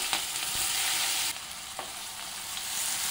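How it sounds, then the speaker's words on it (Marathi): Finely chopped onion and curry leaves frying in hot oil for a tempering with asafoetida, a loud steady sizzle that jumps as they hit the pan, with a few spoon scrapes and no talking. "आता इथे मी कढीपत्ता घालते आणि हा आपण बारीक कापून घेतलेला कांदा"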